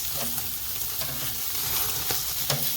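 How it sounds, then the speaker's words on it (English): Large, thick steaks sear over direct heat on a Chud Box, with a loud continuous sizzle and pops close by and no voices. "So first thing I want to do is get a nice sear on these."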